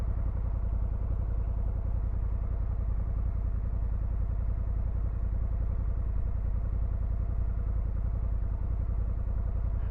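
A 2024 Honda Africa Twin 1100 DCT motorcycle engine running in gear at about 2,500 rpm, a steady low rumble that holds constant with no speech over it.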